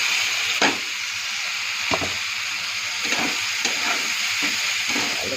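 Sabudana frying in a pan with tomato, stirred with a spoon over a steady sizzle, several distinct scraping strokes spaced every second or so, close and clear without talk.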